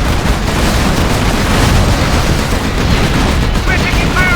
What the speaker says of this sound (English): We're taking fire on the right flank!